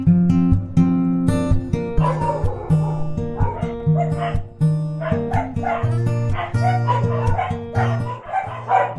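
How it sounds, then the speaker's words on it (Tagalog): Several dogs bark and yip nonstop around an urban home garden, a loud, overlapping chorus of sharp barks with some whimpering, close and continuous throughout. "Maingay yung mga aso."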